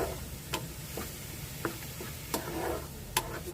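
Masala paste cooking in a little water in a pan, stirred with a spoon that scrapes and taps at irregular intervals over a faint, soft simmer, quiet and close with no speech.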